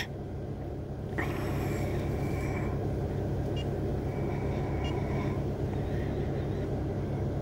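A Mercedes-Benz Sprinter engine idles steadily with a dense, constant low rumble that starts abruptly about a second in and holds unchanged at close range, no voices over it.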